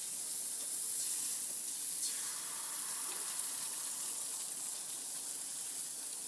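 Steady, bright sizzling hiss of grain-free tortilla batter hitting a hot griddle, continuous and fairly loud throughout with no talking.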